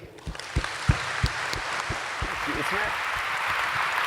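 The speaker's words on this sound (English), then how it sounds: "let's give a round of applause to Mr. Michael McQueen." Applause from a conference audience at a plenary session, a steady broadband clatter of clapping with a few sharper claps standing out early on, mixed with some crowd noise.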